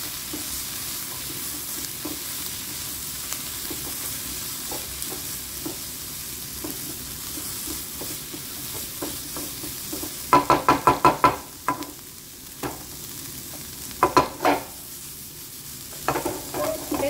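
Carrot, capsicum and other vegetables stir-fry over a low flame with cumin, salt and pepper, giving a low steady sizzle under regular light taps. Later come bursts of rapid, loud clattering from a spatula against the pan.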